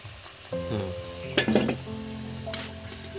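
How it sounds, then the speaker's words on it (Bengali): Fried potatoes for a mutton-style aloo dum being lifted out of a pan: a soft sizzle runs throughout, with a couple of brief louder clatters of a utensil against the pan partway through. "এবার আমি আলুগুলো, ভাজা আলুগুলো তুলে নিচ্ছি"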